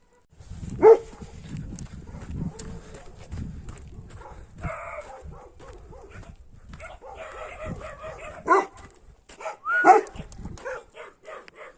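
Uneasy dogs at a highland pasture at night give scattered sharp barks, yips and whimpers, some close and loud, others softer, with quiet gaps between the outbursts.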